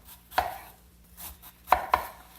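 Knife chopping an onion into dice on a cutting board, three crisp, close blows spaced irregularly with quiet gaps between them.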